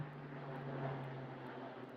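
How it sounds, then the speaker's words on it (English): An aeroplane passes overhead in Kenya, giving a steady, droning engine roar with a low sustained hum, moderately loud and unbroken for the whole stretch, with no talking. "there's an aeroplane going through."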